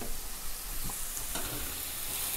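Liver salad ingredients with allspice being stirred together in a bowl, a steady soft scraping and rustling at close range with a brief clink, with no voices.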